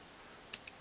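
A few light computer keyboard keystrokes typing a worksheet name in Excel, three quick faint clicks near the end of an otherwise quiet moment.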